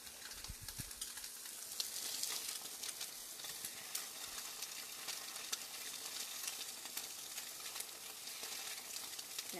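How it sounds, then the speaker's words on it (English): Tofu searing in a hot pan gives a faint, continuous sizzle and crackle that runs steadily throughout without any voices. "tofu takes a long time to get a nice sear"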